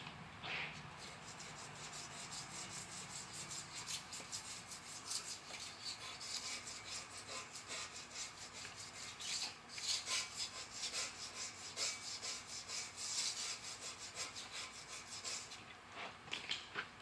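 A razor blade scrapes old head gasket material off a 5.3 engine block in steady, gritty rasping strokes, continuous and close, with no talking.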